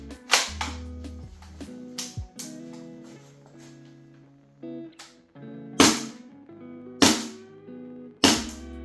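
A Tokyo Marui MP9 airsoft gun on its default short stroke fires a series of sharp, snappy cracks, single shots and quick pairs spread unevenly over several seconds, close by and loud, with faint mechanical ringing between them.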